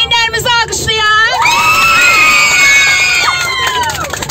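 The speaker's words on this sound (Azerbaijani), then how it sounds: "Valideynlərimizi alqışlayaq." An audience cheers for parents, with loud, close whoops and high-pitched yells from children and adults rising together into sustained shouting before tapering off.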